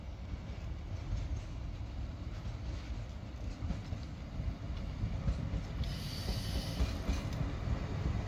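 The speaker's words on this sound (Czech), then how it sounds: "Nepřibližujte se ke koleji, na kterou vyjíždí vlak." A train departs from a station platform in Příbram, Czech Republic, rumbling steadily nearby, a continuous rolling roar with faint rail clatter, growing slightly louder as it moves off.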